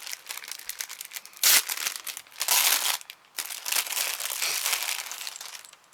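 Paper and plastic packaging crinkling and tearing as a package is opened, in close, uneven bursts with a few louder rips, no talk.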